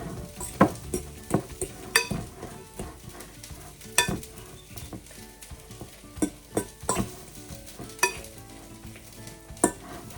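Garlic cloves are crushed in a pan with a drizzle of olive oil, giving a steady soft sizzle. Irregular scraping clacks and taps of a utensil against the pan break through it. It sounds close, with no talking.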